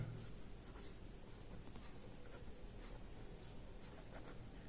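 Faint, scratchy strokes of writing on a board during a Class 7 maths lesson on integers, a steady soft rasping with light taps, quiet and without talk.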